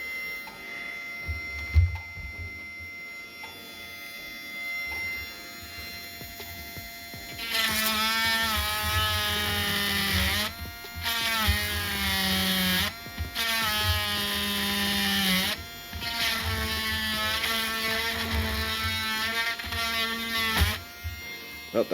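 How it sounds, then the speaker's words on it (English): A drill motor spins up and runs in several long bursts boring holes in wood, its pitch rising and dropping, with quiet handling noise between. "I guess I can just drill them again"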